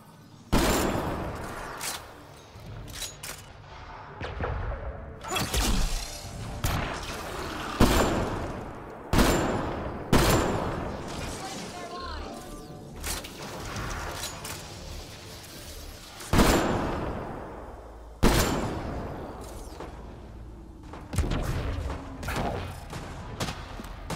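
Mass Effect Andromeda combat: repeated loud bursts of gunfire and impacts come in irregular volleys, with sharp cracks, thuds and crashes separated by short lulls, close and punchy across the whole stretch.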